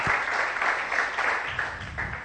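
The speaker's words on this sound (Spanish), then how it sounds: "¿Cuántos le dan un buen aplauso al Señor por eso?" A church congregation claps together, a dense, steady burst of applause that holds at full strength and begins to thin toward the end.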